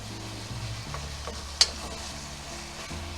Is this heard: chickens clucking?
no